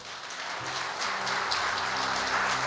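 An audience applauds steadily in a church during a sermon on the fruit of the Holy Spirit, with dense, continuous clapping that sounds close and fairly loud, and a low sustained musical tone underneath.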